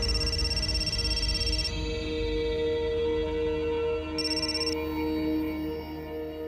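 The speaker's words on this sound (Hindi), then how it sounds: "सत्या, अम्माजींचा फोन." A telephone rings in a Marathi TV serial household scene, a steady electronic ringtone with repeating tonal bursts that switch pitch, loud and close with no talking over it.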